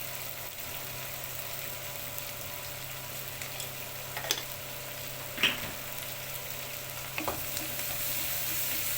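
Onion softening in ghee with ginger and cinnamon for a meat dish gives a steady, close sizzle with a few faint clicks and pops scattered through it, and no voices.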